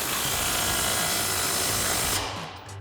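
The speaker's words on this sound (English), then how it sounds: "Grab your impact and your wrench with a 19 millimeter socket, a 19 millimeter wrench." An impact wrench with a 19 mm socket tightens a nut on the front lower control arm of a 2016-2023 Toyota Tacoma, a loud, dense continuous rattle running for about two seconds before cutting off abruptly.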